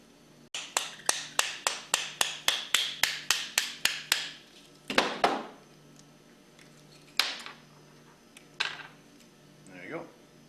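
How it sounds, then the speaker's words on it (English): Light metallic taps drive a piston pin out of a diaphragm pump piston assembly, a quick even series of about fifteen close ticks followed by a few heavier separate knocks and a soft rattle. "and then tapping out this pin from the other side"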